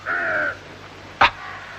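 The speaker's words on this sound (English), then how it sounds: "The crows are circling around in the sky." Crows caw in the open sky, one drawn-out call followed by a short sharp caw, fairly clear against a quiet background.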